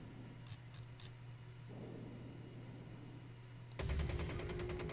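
Spaceship weapons in Star Citizen open fire against a pirate craft: after a low cockpit hum, a sudden loud stream of rapid, evenly spaced shots bursts in and keeps hammering to the end.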